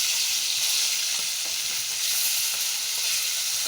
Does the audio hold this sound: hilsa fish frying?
yes